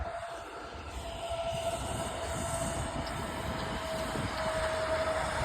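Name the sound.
freight train passing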